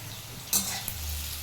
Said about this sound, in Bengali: আগে একটু পটলটা ভাজা হয়ে যাক